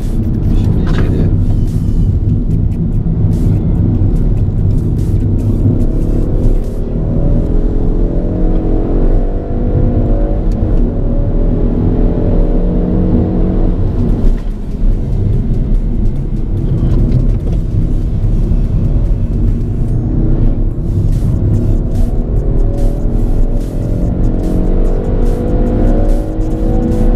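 Peugeot GTI hatchback engine revving hard toward redline on a drive, a loud continuous roar with rising and falling pitch sweeps as it accelerates, filling the whole stretch.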